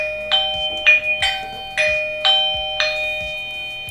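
A Eufy Doorbell 2K chime plays a repeated two-tone electronic ding-dong, five or six bright evenly spaced notes ringing close and loud with a lingering sustained tone underneath.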